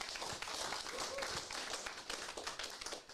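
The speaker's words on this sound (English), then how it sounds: "give yourselves a good clap" Players and spectators at a school golf croquet championship give a steady round of clapping, a dense field of overlapping hand claps from a group across a few seconds with no pauses.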